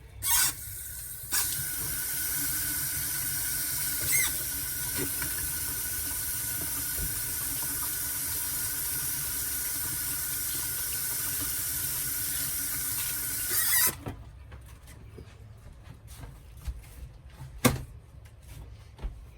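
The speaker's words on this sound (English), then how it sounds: "let me wash my hands real quick" Hands being washed under a running kitchen tap, a loud steady rush of water into the sink that stops abruptly near the end, followed by a few quiet clinks and a sharp knock.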